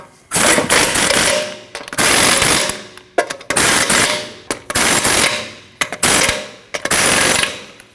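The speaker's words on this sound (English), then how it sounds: "Now tighten down all your lug nuts." Impact wrench bursts tightening lug nuts on a Nissan NV2500 wheel: six loud, rattling hammering runs, each roughly a second long, separated by short pauses, close up with no speech.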